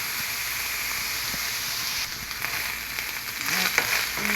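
Oil heating in a pan to make béchamel gives a soft, steady frying sizzle and hiss, with a few faint clinks and a slight rise in noise toward the end. No one speaks.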